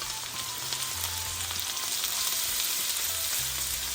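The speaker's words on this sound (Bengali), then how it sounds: "পেঁয়াজগুলো যখন এরকম বাদামি হয়ে আসবে, সে পর্যায়ে এখানে আমি যে শিম কুচি করে নিয়েছি সেগুলো দিচ্ছি" Chopped flat beans go into browned onions frying in a pan, a steady, loud, close sizzle running throughout with low rumbling underneath and no talking.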